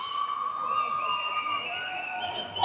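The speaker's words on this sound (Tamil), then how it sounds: "ஒரு பலத்த கைத்தட்டல் கொடுத்துடலாம்." A crowd at a music video launch event cheers and applauds, a sustained roar with high shouts and whistles layered over it, moderately loud and continuous.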